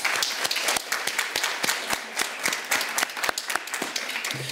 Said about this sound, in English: Round of applause all the way from Riga here.